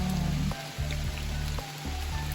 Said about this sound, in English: more the rain falling down